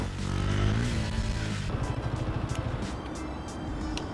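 A small-cc RokON motorcycle engine, close and loud, holds a steady drone, then drops into a choppy, pulsing idle as the rider brings the front wheel up into a wheelie.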